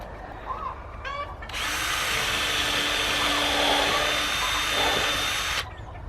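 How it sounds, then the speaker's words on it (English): Power drill whirring steadily for about four seconds as it drives 4-inch screws into a wooden squash and pumpkin frame fitted with steel brackets, close and loud, with a short bit of quieter handling noise before it. "So I'll drill these in and get them screwed down."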